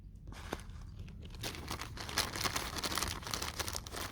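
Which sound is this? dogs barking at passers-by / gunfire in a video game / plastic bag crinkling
plastic bag crinkling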